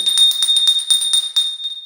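A bright notification bell rings as a sound effect, a steady high metallic tone with rapid shimmering repeats, loud and alone for under two seconds.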